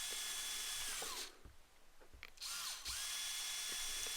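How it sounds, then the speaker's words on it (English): A power drill whines steadily, drilling screw holes while building an organ, stopping twice for short pauses with small clicks and knocks before it runs again. "Drill holes for the screws."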